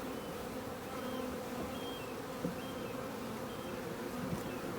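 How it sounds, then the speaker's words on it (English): A healthy colony of honey bees swarms around a hive built into a flat roof, their dense, steady buzz filling the space close up with no pauses, a few brief louder passes of individual bees standing out. "Plenty of bee, but this is a good healthy colony."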